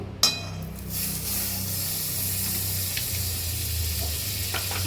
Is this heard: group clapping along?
no